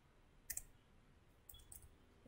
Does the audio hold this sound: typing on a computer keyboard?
yes